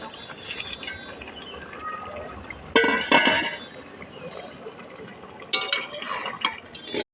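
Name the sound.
tangra fish added into simmering curry gravy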